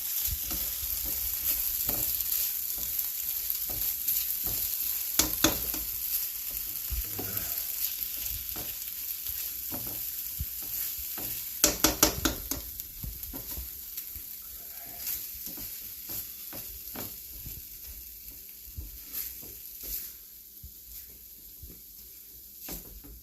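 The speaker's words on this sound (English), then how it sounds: "It's like I gotta stir this more frequently than I thought." Chicken frying in a pan with a steady sizzle, stirred repeatedly so a spoon scrapes and clatters against the pan, with a sharper burst of scraping midway and the sizzle easing slightly toward the end.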